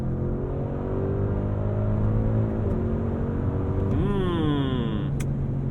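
A 2022 Audi SQ7 V8 revs up through the gears in manual mode with paddle shifts, the engine tone climbing, dropping at each shift, then rising again under a steady cabin rumble.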